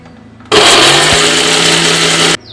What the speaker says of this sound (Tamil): வறுத்து வச்சிருக்க ஜாமான்களை பொடி செய்து எடுத்துக்கலாம்.